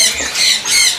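Caged birds at a crowded Indonesian bird market selling imported birds and murai batu give a loud, close, shrill squawking that carries on without pause for about a second.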